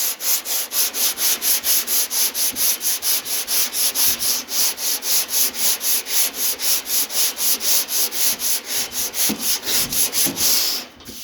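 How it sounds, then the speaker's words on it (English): An 80 grit file board is pushed back and forth over a body panel, giving a steady, rhythmic rasping stroke about every third of a second. The sound is close and loud, continuing without pause for the whole stretch. "we're going to take a trusty old file board, 80 grit."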